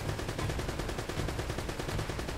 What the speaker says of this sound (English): I'm gonna just have to shoot him.